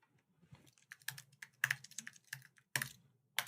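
Rapid, irregular keystrokes on a computer keyboard typing a render job name into DaVinci Resolve 17, close and crisp, with short pauses between bursts of clicks and no talking.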